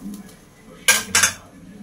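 A lid is set down on a cooking pot of bitter gourd and potato after stirring, giving two close, bright metallic clanks in quick succession over a low kitchen hum.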